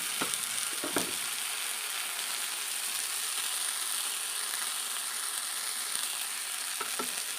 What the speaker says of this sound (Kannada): ನೋಡ್ಬೋದು ಚೆನ್ನಾಗಿ ಫ್ರೈ ಆಗ್ತಾಯಿದೆ